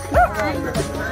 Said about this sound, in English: So many dogs came here, Ferdy.